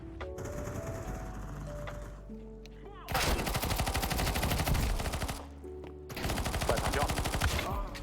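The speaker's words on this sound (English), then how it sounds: "it's a shotgun" Bursts of rapid gunfire from Counter-Strike 2 ring out loud and close in two long volleys, a music-like tone playing before the first.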